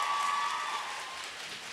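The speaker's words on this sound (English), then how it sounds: "Big round of applause for your supporters." A graduation convocation audience in Peterborough claps in a soft, even wash of applause that sounds distant and fairly faint, sustained through the brief moment.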